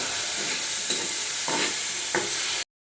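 Sliced onions and curry leaves frying in a pan, with a loud, steady high sizzle and several scraping stir strokes, ending in a brief silence.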